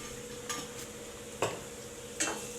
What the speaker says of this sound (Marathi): हळद वगैरे घालून चांगलं फ्राय करून घ्यायचंय